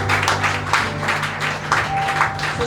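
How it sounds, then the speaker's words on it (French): A church congregation claps and acclaims in a continuous, moderately loud wash of applause, with cheering voices rising and falling throughout. "Si tu as compris, tu peux applaudir."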